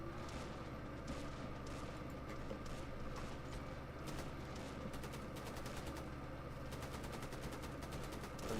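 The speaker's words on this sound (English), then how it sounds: "Probably going to get cut down by these commando machine guns" Commando machine guns fire in a dense, continuous stream of rapid bursts during a real-time strategy mod battle, steady and fairly loud throughout with a busy battlefield wash underneath.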